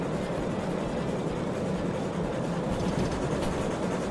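Steam locomotive engine labouring up a steep 2.1% grade in a video game, a loud, continuous low rumble with rhythmic chugging and rail clatter, no talk over it.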